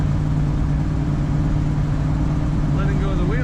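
A 1968 Chevrolet El Camino SS rumbles steadily while driving, a deep continuous exhaust drone with road noise, close and loud throughout, a faint higher tone creeping in near the end.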